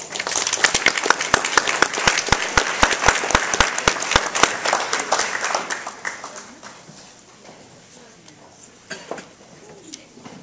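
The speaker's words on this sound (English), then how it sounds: "give a round of applause" An audience at a literacy recognition night claps, with loud, dense applause and a few sharp individual claps for the first six seconds, then fading to scattered claps and room noise.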